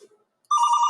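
A mobile phone ringtone starts abruptly after a brief faint murmur, sounding loud and close as a steady electronic tone with bright harmonics, with no talk over it.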